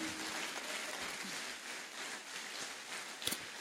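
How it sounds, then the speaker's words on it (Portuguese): A church congregation applauds, a dense, fairly soft patter of many hands clapping steadily for several seconds, with a couple of sharper claps near the end and no voices. "Dê mais uma salva de palmas aí."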